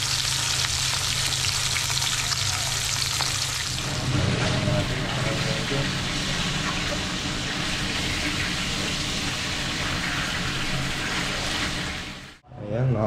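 Meat fries in a hot pan with a loud, continuous sizzle and crackle, close up, fading out at the end while a voice speaks faintly underneath.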